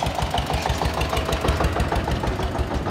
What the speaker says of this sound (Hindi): पहले ट्रैक्टर को जाने देते हैं